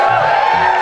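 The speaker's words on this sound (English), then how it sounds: "give a big round of applause for some of my friends here on stage with you?" A concert crowd at a live show in Amsterdam's Melkweg cheers and applauds, with a dense continuous roar in a short, loud burst.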